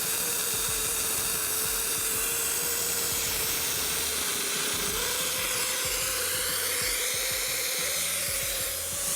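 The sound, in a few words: Multiplaz 3500 plasma torch flame hissing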